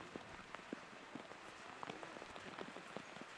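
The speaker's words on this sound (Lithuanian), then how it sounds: "Lyja iš visų pusių" Heavy rain pours steadily all around, a dense continuous hiss with scattered close drops pattering on nearby surfaces, with no voices.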